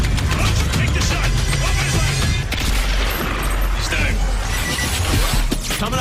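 Dense, sustained gunfire and crashing impacts from the video game Modern Warfare 2 fill the mix, a loud continuous barrage layered with music and effects.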